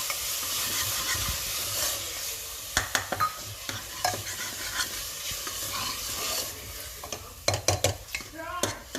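Tomato puree goes into fried onions in a pan and sizzles steadily while a spoon scrapes and knocks against the metal in scattered sharp clicks, close by, with louder bursts of stirring toward the end.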